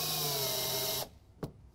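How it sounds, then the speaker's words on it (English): A power driver spinning screws into the rail of a BAK RollBak tonneau cover, one steady loud whir that cuts off abruptly, followed by a single short click. "we're going to take and loosely install to the included screws right into these holes"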